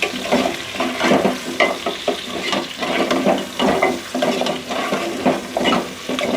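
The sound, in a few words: frying beef trotters with cumin and coriander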